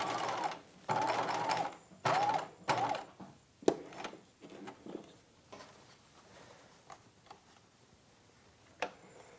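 A sewing machine stitches the lining of a 1950s halter dress in bursts: several sustained runs of rapid mechanical whirring early on, then shorter, sparser stitch bursts and clicks as the needle stops and pivots, close and fairly quiet.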